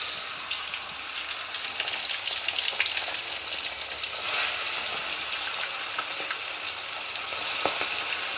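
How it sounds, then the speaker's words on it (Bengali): Koi, shing and taki fish frying in hot oil in a home kitchen, a continuous crackling sizzle with scattered sharp pops, steady and close with no talk. "এভাবে আমি সব মাছ ভেজে নেব"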